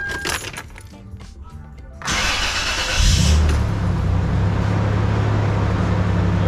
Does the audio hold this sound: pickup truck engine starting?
yes